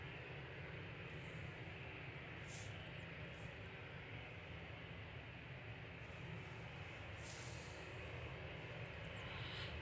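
The Aer Lingus Retrojet airliner at Manchester Airport makes a steady, distant jet roar that holds evenly and faintly throughout, with no voices.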